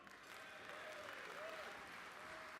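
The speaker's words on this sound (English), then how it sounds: "let's have a round of applause for Di Henwood" Guests at a Wellington College 150th celebrations gala dinner give a speaker a dense, sustained round of applause, a full even roar of clapping with a few cheers mixed in.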